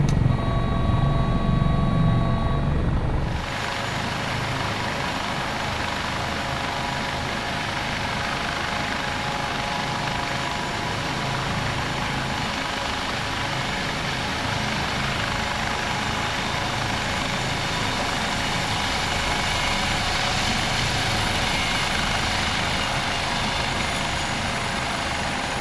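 HH-65 Dolphin Coast Guard helicopter in MSFS 2024 over Valdez, Alaska: a steady, loud rotor and turbine drone, brighter at the start then settling into a continuous flight hum throughout, with no talk.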